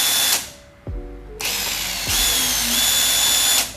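A Nagawa NID213K impact driver spins up in short trigger-controlled bursts, with a brief whir, a pause, then a longer high-pitched run that climbs and holds before cutting off, loud and close.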